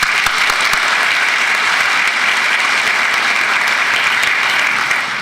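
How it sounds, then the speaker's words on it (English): A graduation-celebration audience at Cal State Fullerton's APIDA Recognition Celebration applauds its graduates, with steady, dense clapping that holds loud and even throughout, with no talk on top. "give them a round of applause"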